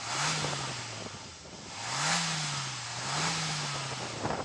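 A Suzuki Jimny engine revving up three times in succession, each rise in pitch climbing then dropping back to idle, close and loud with no talking.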